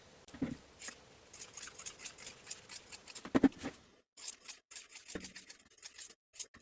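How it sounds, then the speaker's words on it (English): Scissors trimming the fabric seam allowances on a sewing project make a quick series of crisp snips, close and quiet, with a brief pause partway through before the cutting resumes. "Trim the seam allowances to 1/4 inch."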